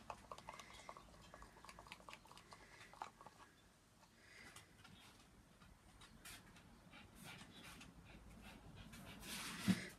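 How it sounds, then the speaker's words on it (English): Puppies pant indoors, a quick, soft, rhythmic breathing that stays faint and close, with occasional small whimpers over a quiet room. "Can hear a noise. That's my puppy dogs."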